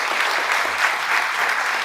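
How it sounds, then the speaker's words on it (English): Dense, sustained applause from an audience at a Diwali celebration honoring Governor Sanders, loud and steady without a break. "I think we all have to give another big round of applause to Governor Sanders."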